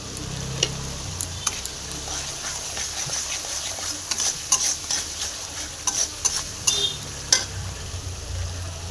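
Spices frying for a fish curry hiss steadily while chili powder is stirred in, with close, irregular scrapes and taps of a spoon against the pan.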